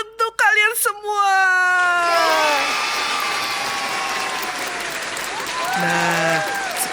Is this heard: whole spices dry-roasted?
no